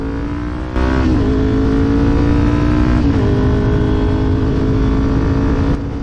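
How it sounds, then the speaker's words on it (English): A Kawasaki Ninja 400 motorcycle runs loud and steady from the rider's position, its engine note rising smoothly through the revs, with a slight dip in pitch partway through as a gear shifts. "I enjoy the thrill and adrenaline rush of riding the Ninja 400."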